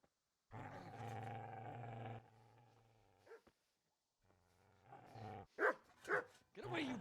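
A dog barks and growls in the medieval game Kingdom Come: Deliverance, a sustained rough snarl followed by several sharp, loud barks in quick succession, close by.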